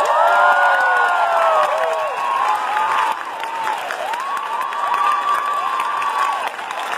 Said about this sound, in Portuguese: se quiserem me aplaudir